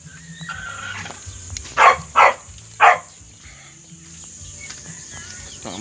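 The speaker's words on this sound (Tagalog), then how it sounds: "So ito nga yung mga aso ko." Dogs barking at a backyard home with chickens, three sharp barks in quick succession, fairly close, over faint background hum and a quiet voice.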